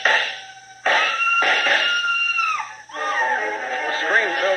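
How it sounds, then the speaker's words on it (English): A high, frenzied scream from a radio drama, loud and up close, breaking into several piercing bursts with brief gasps and a strained, wavering wail toward the end. "The scream filled the house, high and frenzied."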